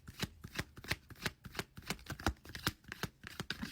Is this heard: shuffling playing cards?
yes